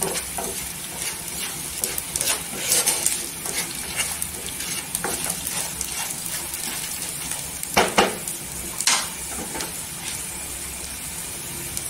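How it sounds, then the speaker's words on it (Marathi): Peanuts roasting in a pan over a low gas flame, with steady soft sizzling and repeated stirring scrapes, a few sharper clinks of the spatula against the pan standing out, no voices. "आणि भाजताना आहे ना स्लो गॅसवर भाजून घ्यायचं।"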